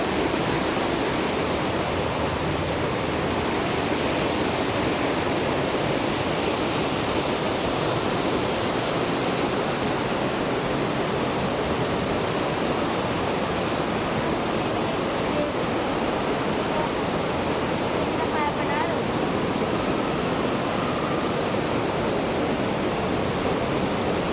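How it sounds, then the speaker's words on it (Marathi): A steady, loud rush of water flows without pause throughout, a dense continuous roar of a strong river current. "ही गोव्यातून येणारा मुख्य नदी ही तुम्हाला या टाईमी जोरात वाहताना दिसत असते"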